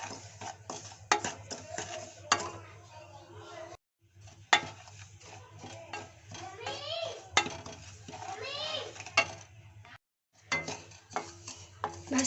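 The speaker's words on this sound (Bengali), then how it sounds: "ঘন ঘন নাড়তে হবে যেন সুজিগুলো পুড়ে না যায়।" Semolina dry-roasting in a wok, stirred briskly with a metal spoon that scrapes and clatters against the pan in repeated bursts, with a short pause; voices and a child can be heard in the background.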